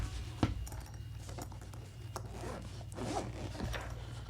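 A zipper on a Nitro Deck case being opened, a quiet close rasp with a few short pulls and faint rustling, with no talking.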